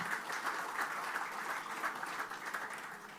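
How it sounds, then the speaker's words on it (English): A crowd applauds continuously, many hands clapping together in a steady wash of sound that stays even throughout. "please give a good round of applause for our legend"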